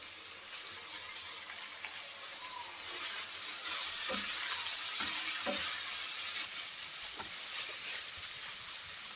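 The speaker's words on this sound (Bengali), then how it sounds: "নেড়ে চেড়ে মাংসটা ভালো করে ভেজে নিয়েছি" Chicken pieces being stir-fried in a pan for chicken fried rice, giving a steady, close hiss of sizzling oil with occasional stirring clinks and scrapes throughout.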